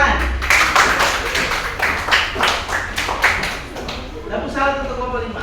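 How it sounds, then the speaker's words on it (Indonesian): A classroom group claps together during a coding and artificial intelligence teaching session: a dense, rhythmic burst of hand claps, loud and close, fading out with voices at the end. "Tepuk tangan."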